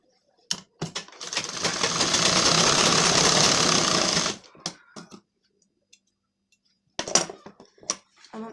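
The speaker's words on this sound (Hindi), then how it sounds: "अब हम इसे ऐसे पलट के एक बार और ऐसे पलट के हम सिलेंगे" A sewing machine stitching a blouse lining runs in one steady burst of rapid mechanical whirring for several seconds, framed by short clicks and fabric handling before and after.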